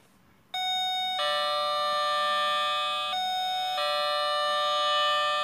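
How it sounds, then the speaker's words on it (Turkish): A Mutlusan electronic doorbell chimes in bright sustained tones, a two-note ding-dong pattern repeating after a short quiet start, clear and close. "değdirdiği zaman çaldı zilimiz"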